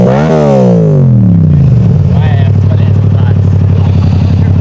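Yamaha MT-07 motorcycle with an aftermarket exhaust, idling in neutral then blipped: a loud rev sweeps up and falls back into a deep, steady rumbling idle that dominates the whole stretch.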